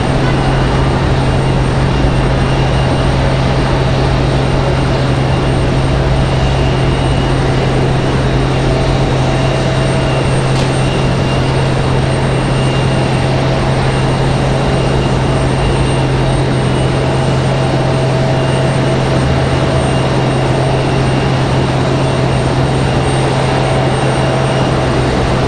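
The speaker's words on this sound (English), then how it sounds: "Southwest coming in from Denver," Southwest airliner arriving from Denver at Raleigh-Durham airport, its engines a steady, broad roar that holds level for the whole stretch with a constant low drone underneath, no voices.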